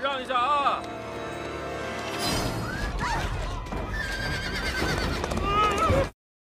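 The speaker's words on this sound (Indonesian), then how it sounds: "kuda itu mengamuk dan berlari kencang" A raging, runaway carriage horse neighs loudly, then hooves pound in a fast gallop alongside further whinnies, close and intense before cutting off abruptly.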